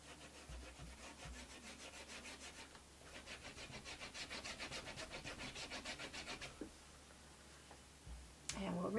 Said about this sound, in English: So I'm dry rubbing with Wild Orchid.